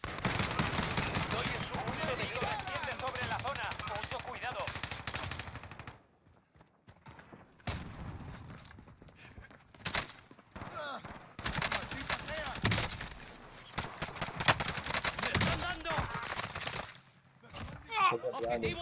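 Bursts of automatic gunfire in the Warzone battle royale game, dense rapid volleys in the first six seconds, then scattered shots and firefights later, with voices talking over parts of it.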